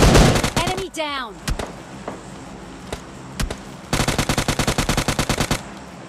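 Bursts of rapid automatic gunfire in PUBG Mobile, a loud opening volley with a descending whistle, then scattered single shots and a long even-paced burst near the end, with no voices.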